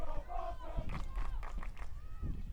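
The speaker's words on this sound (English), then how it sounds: "Quinnipiac baseball team trying to cheer their team on" Members of a college baseball team cheer and shout from the sidelines at a women's field hockey game, a loud crowd of voices with rising yells and chants that carry steadily through the moment.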